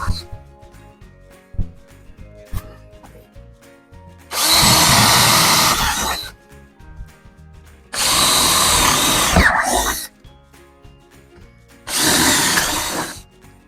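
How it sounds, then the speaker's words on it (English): A power drill boring 3/8-inch holes in wooden model railroad benchwork, three loud bursts of a few seconds each separated by quieter pauses with small clicks and knocks. "I'm just drilling some 3/8 diameter holes so that I can run all of my LED strip lighting through it."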